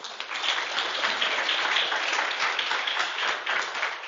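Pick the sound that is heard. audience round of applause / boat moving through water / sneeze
audience round of applause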